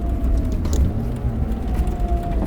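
A 230 hp V6-swapped Mazda Miata downshifting on the road, its engine note dropping and rising through a short, steady mechanical drone heard up close.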